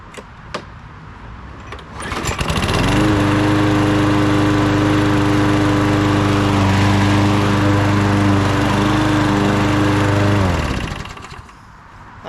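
Late-1990s Honda Harmony rear-propelled walk-behind lawn mower engine starts up and runs loud and steady for about eight seconds at close range, then winds down and stops.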